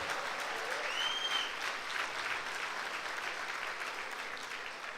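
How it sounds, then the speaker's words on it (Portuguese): Members of a church congregation give a sustained round of applause, steady and fairly distant, with a brief whistle-like tone rising near the start and murmuring voices faintly underneath. "Dê um aplauso aí a Jesus"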